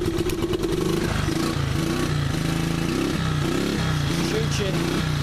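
A 1986 Honda TRX 125 ATV engine, smoking and in worn condition, idles with a close, steady putter and slight clatter throughout, a voice talking over it.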